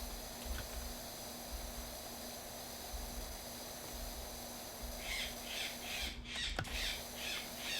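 Birds squawking outdoors near a treehouse, a series of raspy calls toward the end over steady background hum, moderately close.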